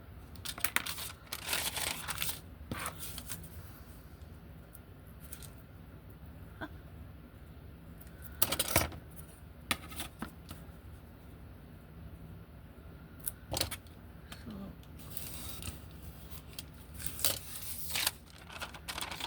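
Scissors cut through tracing paper to make a small pouch, with a series of sharp snips and crisp crinkling rustles spread irregularly over the stretch, close up and fairly quiet, with no talk.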